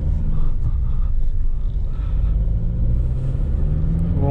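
Maruti Suzuki car with a 1.3 diesel engine and the air conditioning running, heard from inside while driving: a steady, heavy low rumble of engine and road noise, continuous and fairly loud, with no speech.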